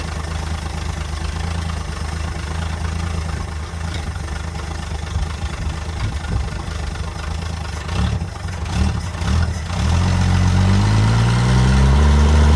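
An XY/XR Ford Falcon engine running after sitting unused for 30 years in a paddock barn, a steady low idle that roughens near the end and then settles into a louder, deeper rumble.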